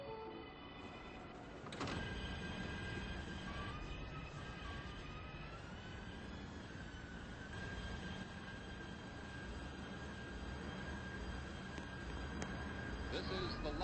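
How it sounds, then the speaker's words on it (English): Subway train ambience in the Roblox game Subway Life, with a steady rumble and a rising electric whine, a sharp clunk near the start as doors shut, wheels squealing faintly throughout. "Stand clear of the closing doors"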